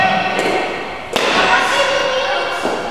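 A ball is struck hard along the ground, giving a sharp thud that stands out amid outdoor noise, with a voice speaking around it.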